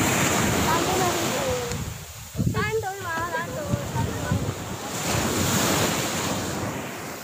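Ocean waves wash onto a beach in Balikpapan with steady surf and heavy wind buffeting the microphone, while a person speaks briefly partway through.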